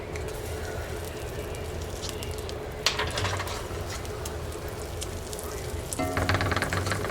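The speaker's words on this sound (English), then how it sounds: "I've got my pan hot here, so I'm going to add my 2 tablespoons of butter, and I'm going to add my tablespoon of olive oil" Butter and olive oil sizzle and fry steadily in a hot pan, a continuous close crackling hiss with a brief clatter partway through and slightly busier spattering toward the end.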